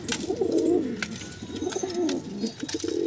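Several pigeons coo in a low, rolling rhythm while settled and feeding in their loft, the soft throaty calls repeating close by with faint chirps and rustles around them.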